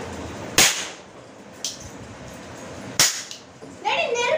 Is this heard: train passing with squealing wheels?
no